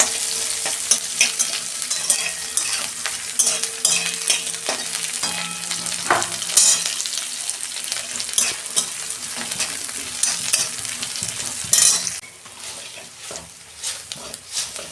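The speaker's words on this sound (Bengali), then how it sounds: "একটা তেজপাতা দিচ্ছি, অল্প জিরে দিচ্ছি তেলে, পেঁয়াজ দিচ্ছি" Medium onion, bay leaf and cumin fry in hot oil for a dal, with a close, continuous sizzle broken by repeated stirring scrapes.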